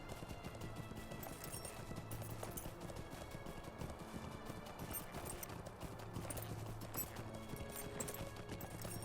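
Horse hooves clip-clopping at a steady pace while riding in Lord of the Rings Online, a continuous rhythmic clatter at moderate level over busy ambient game background.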